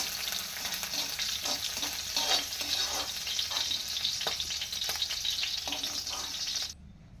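Curry leaves frying in hot oil in a pan, a loud, continuous crackling sizzle with pops and stirring scrapes, cutting off abruptly at the end.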